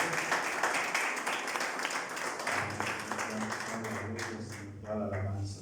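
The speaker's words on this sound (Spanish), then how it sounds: "Dar un aplauso a Cristo Jesús." A church congregation claps together in praise of Jesus after a sermon, a dense, steady wash of applause at moderate volume, with a low sustained tone and voices coming in over the last seconds.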